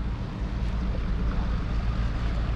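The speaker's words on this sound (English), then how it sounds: "Really nice old sailing ship there." An old sailing ship moving past on open water, heard as a steady wash of wind and water noise with a low rumble, continuous and fairly loud with no talking.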